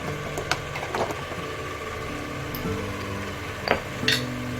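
Turmeric and garam masala being stirred into a pan, with a spoon scraping and knocking against the metal in a few scattered clinks and scrapes over a low steady background hum.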